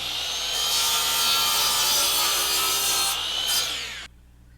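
A single continuous cut through a wooden section for a homemade carpenter bee trap, a close, steady rasping saw stroke lasting several seconds before stopping abruptly, with no talk.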